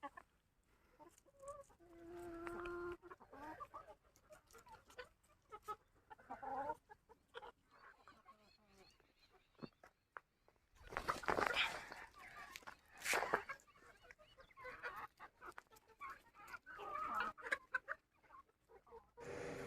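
Chickens cluck on and off nearby, with scattered rustling and a couple of louder bursts of farmyard noise in between.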